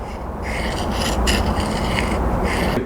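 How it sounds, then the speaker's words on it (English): A knife blade being dulled by rubbing it across an 80 grit sharpening stone on a Hapstone RS Premium CBN Pro Series sharpener, a steady, close rasping scrape that runs continuously with no talk. "So I'm trying to dull it on this 80 grit."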